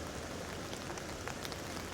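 Torrential rain pours down in Tunisia, a dense, steady hiss of drops drumming on surfaces with no pauses, close and continuous throughout.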